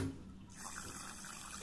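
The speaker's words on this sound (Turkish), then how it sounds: "Pompayla vurduğumuz zaman şuradan su atıyor." Water spurting steadily from a small leaking pipe under pump pressure during leak detection, a continuous faint hiss and spray, close by and with no talk.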